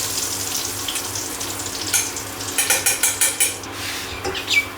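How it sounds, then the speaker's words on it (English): Pork ribs fry in hot oil in a pot, giving a steady hiss of sizzling. Brief louder crackles and a few clinks of a utensil against the pan rise over it. "we'll just let it sit and let it fry."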